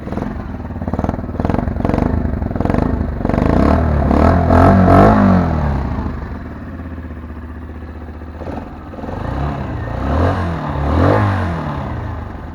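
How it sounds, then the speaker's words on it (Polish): A Zipp VZ-5 touring enduro motorcycle engine cranks and catches at once, then revs up and settles into a loud, close idle with a few more throttle blips. "motocykl odpala, odpala na strzał bardzo ładnie brzmi"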